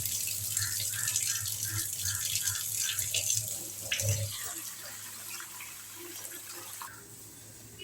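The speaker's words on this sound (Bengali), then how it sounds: "এরকমভাবে আমি খুব ভালোভাবে পরিষ্কার করে নেবো যতক্ষণ আমার জলটা ফ্রেশ হয়।" Periwinkle snails being washed in water in a kitchen sink, with running and splashing water and small clinks of shells continuing steadily and fairly close throughout.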